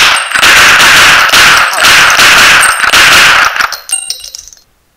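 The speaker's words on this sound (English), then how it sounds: "Then I brought out all the guns I had and shot him in the face." Gunfire sound effect: loud, rapid bursts of automatic fire repeating for several seconds with metallic clatter, then tapering off into silence.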